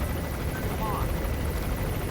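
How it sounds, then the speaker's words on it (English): Low rumbling rotor drone of a helicopter in the video game Metal Gear Solid V, steady and fairly loud across the whole stretch, with faint game sounds mixed in. "the helicopter only really sees stuff in its spotlight"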